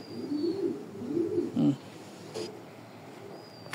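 Black Diamond racing pigeons coo in low, rolling repeated calls, close and clear, with a brief flutter-like rustle partway through.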